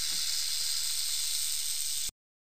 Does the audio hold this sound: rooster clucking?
no